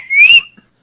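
A person imitates a rooftop whistle with a single short rising whistle, loud and close, fading out within about half a second.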